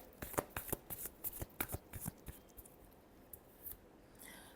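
Tarot cards being shuffled by hand, a quick series of crisp riffling bursts close by for the first couple of seconds, then a few scattered softer card flicks.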